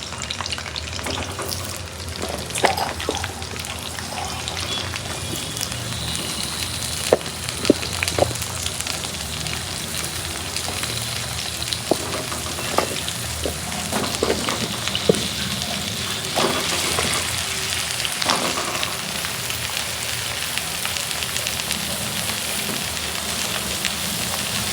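Potatoes frying in hot mustard oil give a steady, close sizzle throughout, with occasional clicks from stirring and no voices.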